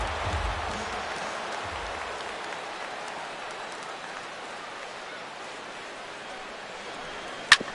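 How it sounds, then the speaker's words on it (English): A baseball stadium crowd gives a pitcher a sustained ovation, a broad wash of distant applause that holds steady and then slowly fades, with one sharp click near the end. "he'll get himself a nice little ovation for the work he's turned in on the mound so far"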